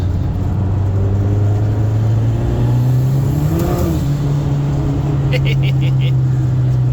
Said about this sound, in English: That's third gear and it knocks the tires off because it's a little moist outside.